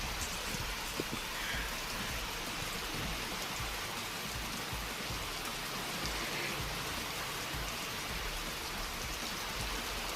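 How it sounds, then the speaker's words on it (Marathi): Heavy cloudburst rain pours steadily in Beed, a dense, continuous roar of drops with no voices. "पाहू शकता कशा प्रकारे पाऊस चालू आहे"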